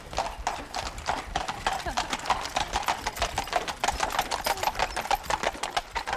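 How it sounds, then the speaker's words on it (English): A horse's hooves clip-clop in a brisk, steady rhythm during a ride, the regular strikes close and clear from start to finish, with speech also present. "And they've taken up horse riding."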